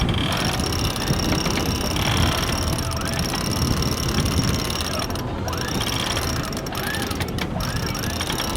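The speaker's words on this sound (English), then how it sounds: "Electric winches, man, love it." Electric winches on a Leopard 45 catamaran whir and ratchet continuously while hauling in the genoa, loud and close over wind and water noise.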